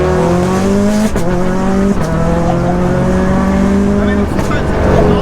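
Prodrive P25 with anti-lag accelerating hard, heard from inside as a loud, rising engine howl through the gears with brief shift breaks and pops, over excited talking from a passenger.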